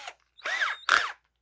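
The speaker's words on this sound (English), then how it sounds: "Of course, you need a drill for your drill bit." A power drill fitted with a number 33 bit, just under 3 mm, makes short whirring bursts, revving up and down twice in quick succession, close and loud with a brief pause between.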